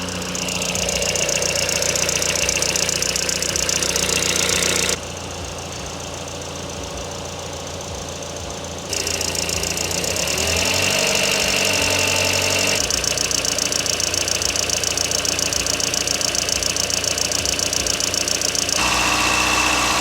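An engine runs at a steady, rough idle throughout, with a brief dip in loudness partway before settling back into a constant mechanical drone.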